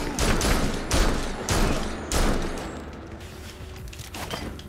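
Rapid bursts of gunfire from the Gotham Knights video game crackle in four or five loud volleys, with short gaps between them. The shots trail off into quieter rattling toward the end.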